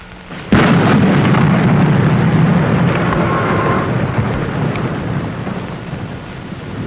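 A sharp crack of lightning splits the air, followed by a long, heavy rumble of thunder over steady pouring rain, loud and close, fading slowly.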